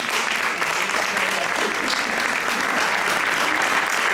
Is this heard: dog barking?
no